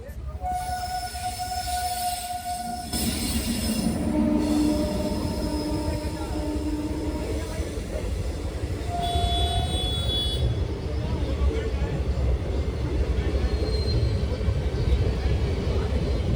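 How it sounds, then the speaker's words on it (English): A train rumbles past close by in India with steady low rolling noise, brief high squeals and whistling tones over it, while a waiting crowd murmurs in the background. "There are so many people waiting here for the train to pass."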